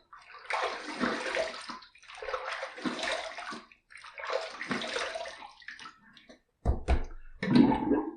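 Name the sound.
rinsing with running water after shaving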